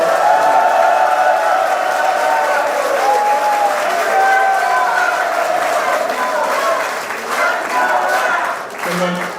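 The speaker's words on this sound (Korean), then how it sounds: "정책의장님께 여러분 뜨거운 환영의 박수 함께 보내주시기 바랍니다." An indoor audience at a party forum in Daegu claps to welcome a speaker, steady broadband applause running throughout while an amplified voice talks over it.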